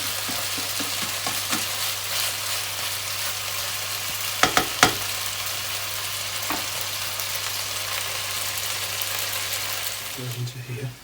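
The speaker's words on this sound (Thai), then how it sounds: "จะผัดพอให้ให้เหลืองนะเพื่อนๆนะ" Food sizzles steadily as it is stir-fried in a pan until golden, with a few loud spatula clacks in the middle and a brief voice near the end.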